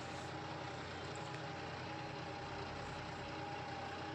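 A John Deere diesel tractor engine idles steadily with a constant low rumble and a faint tonal hum, alone and unchanging.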